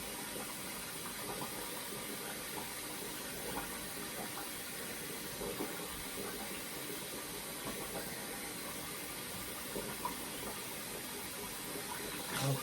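A bathroom tap runs steadily while someone rinses their face during a morning skincare routine, giving a soft, continuous watery hiss with no speech.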